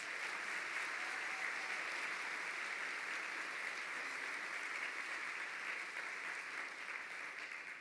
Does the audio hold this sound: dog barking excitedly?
no